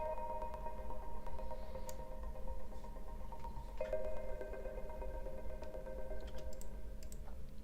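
A steady synth tone rapidly chopped by an LFO into fast, even sixteenth-note pulses, with a shift in pitch partway through; no voices.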